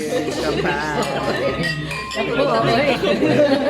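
Glasses clink in a wedding toast at a civil ceremony, several light chinks mixed into lively chatter and cheering voices around them.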